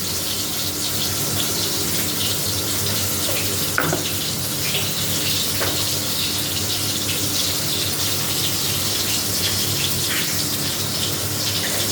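Cold tap water runs in a steady, loud stream onto Kashmiri chilli spices in a kitchen, a continuous rushing splash that holds level for the whole stretch with no talk.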